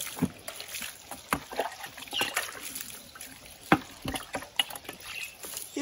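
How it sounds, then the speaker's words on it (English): Water poured from a mug rinses soap off a Royal Enfield Bullet 350 motorcycle engine, an irregular series of splashes and trickles, close and intermittent, with no speech. "take some clean water and wash all the soap water"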